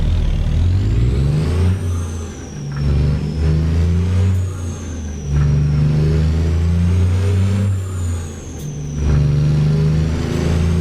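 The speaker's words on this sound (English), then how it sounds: "like in a big truck trying to get back up to speed again" A big truck's engine in a realistic trucking simulator game revs and strains to climb back up to speed, a loud, steady low drone with rising and falling pitch sweeps through the gears.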